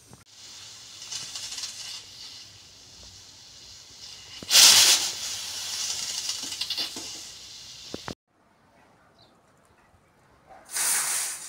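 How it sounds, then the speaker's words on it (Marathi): A pressure cooker of rice on a home stove lets off two loud, sharp bursts of steam hiss, one mid-clip and one at the end, with quieter room noise between them and a short silent gap before the second burst. "कुकर लावलाय भाताचा. इथे भात होते."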